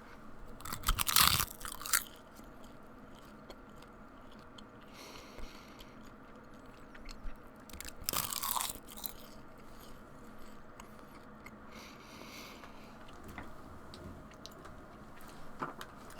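Dried seaweed snack crunches and is chewed right against the microphone, with two loud crisp bites followed by quieter, steady chewing and occasional small crackles.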